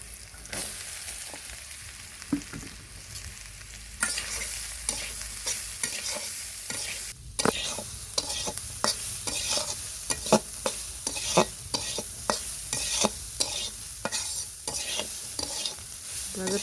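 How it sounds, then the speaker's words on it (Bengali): Spice paste fries in a pan before papaya goes in, a continuous sizzle broken by repeated sharp scrapes and clinks of stirring, loud and close, with no voices. "পেস্টটা একটু ভেজে নিব এখন পেঁপে দিয়ে দিবো"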